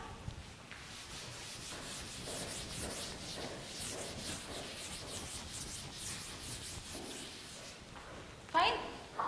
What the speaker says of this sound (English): So I am rubbing this part.